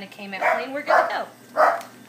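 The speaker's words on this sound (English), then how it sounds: "That's my dog. Look, apparently there's a plastic bag in the backyard and he's working it." A dog barks at a plastic bag out in the backyard, three bark-like bursts about half a second apart, heard over a person talking nearby in a kitchen.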